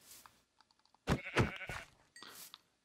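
Sheep bleating in the Minecraft video game, a couple of short synthetic bleats in quick succession after a few faint clicks, fairly loud and alone with no talk.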